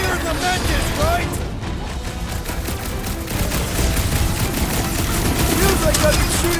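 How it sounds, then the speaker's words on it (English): Rapid gunfire in Guardians of the Galaxy on PS5 pours at a big bot in a dense, continuous barrage of shots and impacts, with crashing and mechanical clatter mixed in and voices talking over the action. "Feels like I've been shooting that big bot for hours!"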